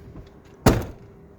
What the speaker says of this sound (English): I'm going to shut the door now and see if the auto drop works